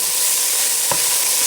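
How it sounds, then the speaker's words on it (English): Vegetables sizzle in a pan for spaghetti meat sauce, a steady dense close fry with one short stir clack midway. "So I'll be letting that sizzle for a little bit."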